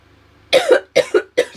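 A person coughs from too much hair spray, three quick bursts of harsh coughing, close and loud, each with a double hack, over near silence.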